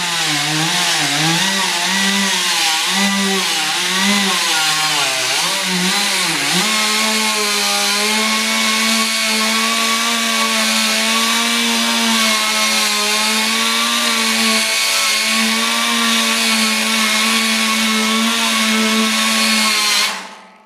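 A Scotch-Brite wheel on a power tool deburring a metal edge for aircraft building. It gives a continuous loud, whirring grind that wavers in pitch at first, then holds steady for about twenty seconds before stopping abruptly.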